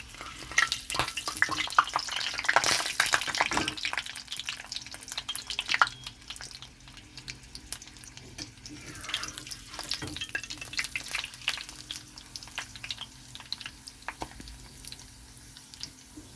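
Malabar spinach leaves coated in thin gram flour batter fry in oil over lowered heat, a soft, bubbling sizzle that swells during the first few seconds, then settles into a quieter, steady crackle with occasional small pops.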